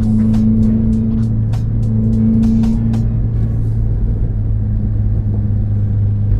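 A 2020 Subaru WRX with rear differential inserts gives a loud, steady low engine rumble with a droning hum and faint clicks as it pulls away under throttle.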